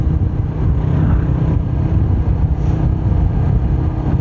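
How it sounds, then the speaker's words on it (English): Honda CBR 500R motorcycle engine held at high revs against its rev limiter, a loud continuous buzzing drone close by with slight rapid stutter. "Nothing like bouncing the rev limiter."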